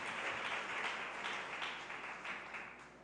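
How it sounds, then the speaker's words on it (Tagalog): A church congregation in San Carlos City, Pangasinan clapping together in a brief burst of applause, a dense patter of many hands fading slightly toward the end. "pumalakpak ng malakas sa ating mahal na Panginoon"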